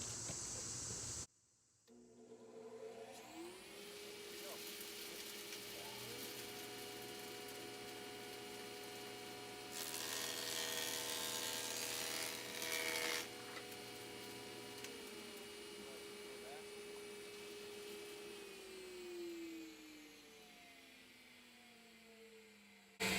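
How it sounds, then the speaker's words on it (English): A woodworking jointer runs alongside a dust collector, a steady machine hum with tonal lines and a brief louder burst of noise as a board passes through the cutter near the middle, then the motor keeps whirring. "we'll turn the dust collector on, then we'll turn the joiner on, and we'll run this through"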